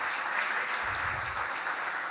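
Audience applause at a public accountability event, a dense steady wash of many hands clapping alone at moderate distance for about two seconds, with a brief low rumble partway through.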